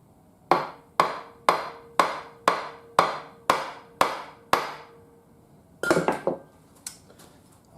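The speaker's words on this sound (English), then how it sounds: "I'm just going to take that and hit it with a hammer" Hammer flattening a small piece of metal: eight sharp, evenly spaced metallic strikes ring out close by, followed by a quicker cluster of lighter taps and a couple of final knocks.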